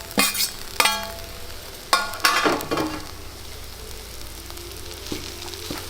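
Potato masala with mint gets a few quick stirs in a pan: two or three short, loud scraping bursts near the start, then a quieter steady sizzle with a couple of soft taps.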